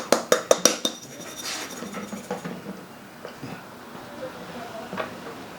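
Batter for a rice cooker castella is mixed in a bowl, opening with a quick run of five sharp clinks of the utensil against the bowl, then settling into softer irregular taps and scrapes, close and unaccompanied by speech.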